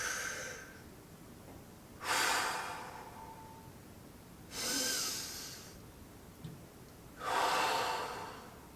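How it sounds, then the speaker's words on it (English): Slow, deep breaths during a back and hip mobility stretch, three long airy inhale-exhale swells spaced a couple of seconds apart, close and clear over a quiet room. "4 deep breaths."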